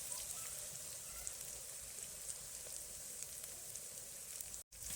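Chili-turmeric paste sizzles in a pan of rewazi goat mutton curry, a dense, steady crackling hiss like light rain that runs unbroken before a brief dropout near the end, with no talking.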